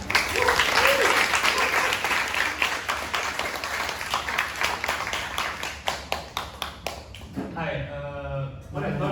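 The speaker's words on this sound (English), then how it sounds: "So please give a round of applause for our speaker." An audience at a book launch applauds its speaker with sustained, fairly loud clapping that thins toward the end, where a voice briefly speaks over the last scattered claps.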